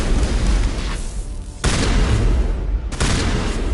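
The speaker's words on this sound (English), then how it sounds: "close quarter combat, we'll get the shotgun out." Shotgun blasts in the video game Mass Effect during close-quarter combat, two loud sharp booms a second or so apart over a dense, continuous roar of battle noise.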